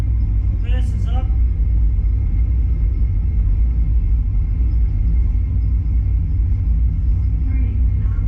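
Airliner thrust reversers deployed during landing on a flight from Wellington to Queenstown, a loud steady roar and low rumble filling the cabin throughout, with brief cockpit voices near the start.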